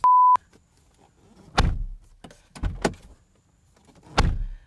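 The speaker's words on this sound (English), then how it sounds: "It just has that typical bank vault-like slam that you get with a German car." A short electronic beep, then several heavy car door thuds from a 2019 Porsche Macan at uneven intervals, solid and close, with quiet gaps between slams.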